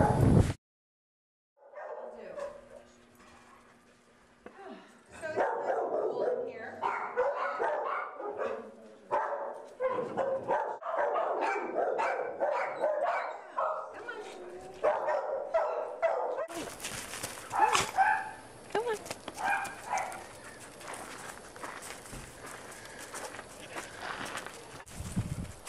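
An Australian Shepherd at a rescue barks and yips repeatedly in a lively series, with whimpers and shuffling footsteps close by and a louder burst of barking near the end.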